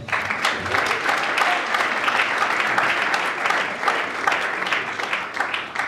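Applause at an award ceremony, the Nzonzing Award, as an audience claps steadily and densely for about six seconds, loud and sustained with no clear speech on top.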